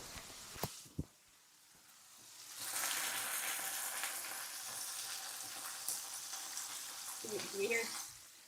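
Taco filling sizzles in a frying pan close to the mic, a steady hissing crackle that swells up after a couple of sharp clicks and a quiet lead-in, then holds with small bursts of stirring.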